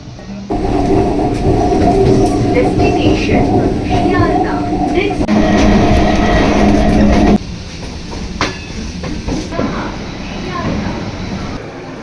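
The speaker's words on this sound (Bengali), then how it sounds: "কল্যাণী থেকে লাস্ট ট্রেন ধরেই এখন আমরা যাব শিয়ালদা" Night local train from Kalyani to Sealdah in West Bengal rolling loudly and steadily with a deep rumble and rail clatter, easing to a quieter run after about seven seconds; people talk faintly under the noise.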